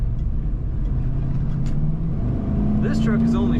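A 1994 Ford F-150 regular cab 4x4 pickup accelerates steadily, its engine drone rising gradually in pitch as it speeds up. The sound is close and continuous throughout.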